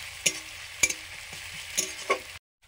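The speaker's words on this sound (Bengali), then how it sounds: "আমি একটু কষে নিচ্ছি," A spatula clinks and scrapes sharply a few times against a pan while food sautés quietly in the background, ending abruptly in silence.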